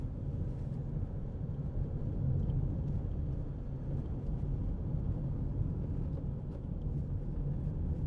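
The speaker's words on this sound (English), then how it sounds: "Just bit of tyre noise, this is a fairly rough road" Steady low rumble of tyre and road noise inside a 2008 Nissan X-Trail 2.0 dCi 4WD on a rough road surface, continuous and even with faint wind noise, no talk.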